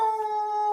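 Dogs howl close by in a steady, sustained tone that holds for under a second indoors, with no talk over it.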